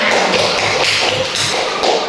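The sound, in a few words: children clapping for a group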